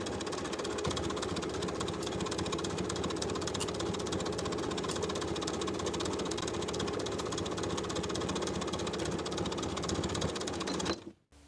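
A sewing machine stitching a collar stand seam with a half-inch allowance, running in a steady, continuous rapid chatter for about eleven seconds before stopping abruptly.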